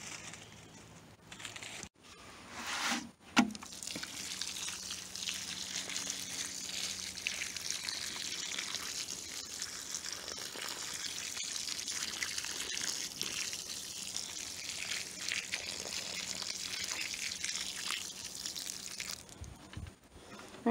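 Water pours steadily onto a newly planted tree in a food-forest garden, a continuous gushing splash at close range that runs for most of the stretch before stopping.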